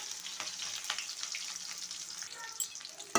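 Onions and five green chilies fry and get stirred in a pan for fish curry, a bright close sizzle with soft scraping strokes and a sharp clatter at the very end.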